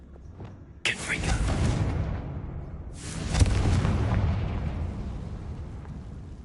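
A Confringo blasting spell goes off in a video game, two loud bursts with a sudden onset about two seconds apart, each followed by a rumbling roar that rolls on while a voice is heard faintly.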